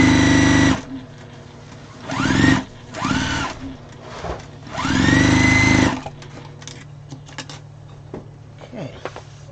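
Sewing machine stitching pieced fabric scraps together, several short loud runs of fast whirring needle chatter separated by quiet gaps, with a longer burst in the middle and light handling noises after.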